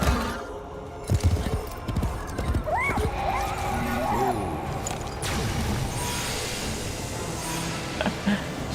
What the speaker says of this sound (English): you really wouldn't want to gallop a horse in this fashion